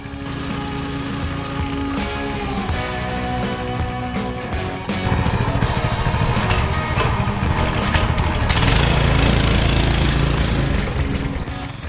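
A Coleman mini bike engine, fitted with a changed drive sprocket, runs steadily while being ridden on a trail, a loud continuous motor drone that grows a little louder and rougher about halfway through.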